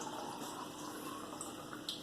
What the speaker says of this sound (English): we quickly fill half the black cylinder with hot water